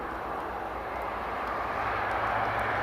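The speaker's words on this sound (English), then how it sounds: "the Horizon 737-400 is now taxiing" A Horizon Boeing 737-400 airliner taxis at Newcastle Airport, its jet engines giving a steady distant whine and rumble that builds slightly over the few seconds.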